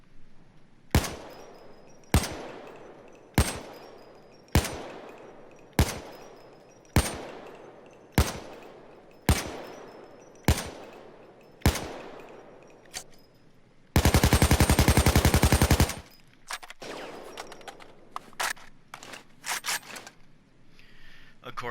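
AK-74 assault rifle in Payday 2: about a dozen evenly spaced single shots with ringing tails, then a loud sustained full-auto burst, followed by scattered shorter shots and mechanical clicks.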